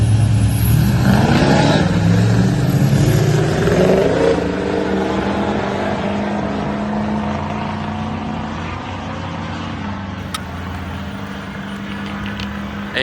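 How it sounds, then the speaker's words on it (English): A Ford truck with a 6.0 Powerstroke diesel launches off the line and spins its tires without traction, giving a loud close engine roar with rising revs that slowly fades as it pulls away. "we've got a pretty bad start and just spun the tires, got no traction"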